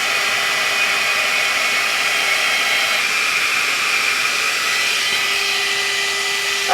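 A GHD Duet Style hot-air styler blowing through curly hair makes a loud, steady whooshing roar with a constant motor whine that shifts slightly in pitch midway, close and continuous without talk.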